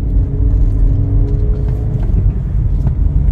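Car rolling in third gear along a straight road at around 81 km/h with the accelerator released, giving a steady low engine and road rumble with faint rattles, heard from inside the cabin with no talking.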